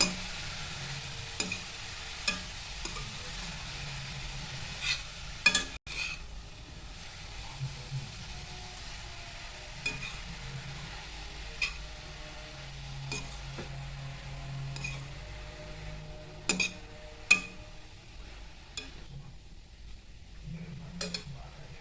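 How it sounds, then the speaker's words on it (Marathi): Grated carrots for carrot halwa are stirred and sautéed in a pan, with a soft, continuous sizzle and scattered spoon scrapes and clinks against the metal across the whole stretch. "आता आपण गाजर टाकलेलं आहे सुपात त्याला आपण परतवून घेतोय"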